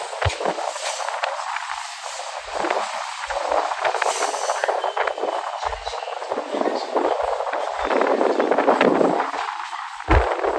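Rattling, rushing noise of a Mumbai local train in motion, steady and broadband with wind buffeting through an open door, continuing without a break for the whole stretch.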